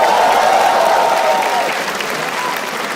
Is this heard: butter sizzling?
no